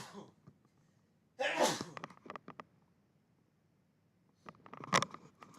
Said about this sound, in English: couldn't mute the mic in time, so I had to quickly sneeze